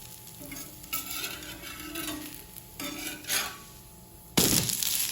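Dosa batter sizzles on a hot pan just after being flipped, a close crackling hiss that swells and fades with scraping and handling noises, then a louder sizzling burst near the end.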